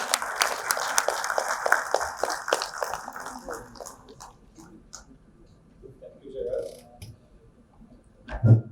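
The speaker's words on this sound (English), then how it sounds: "Please join me to welcome him with a huge round of applause." Applause from an audience at a design debate event in Guwahati, India, with dense clapping for about three seconds that thins out and fades, followed by near quiet and a brief louder rustle at the end.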